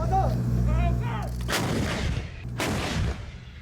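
Taiwanese army artillery guns fire during coastal drills, two loud booming blasts spaced about a second apart, each followed by a rolling echo, preceded by a low vehicle rumble and a faint whine.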